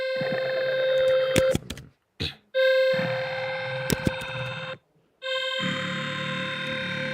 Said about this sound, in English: I call my downhill bass synth when it's like lower pitched.